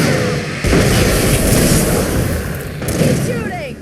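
Loud, booming gunfire in the Alan Wake video game, with a sudden heavy onset and sustained roaring shots over a dense battle din, while voices talk through the action.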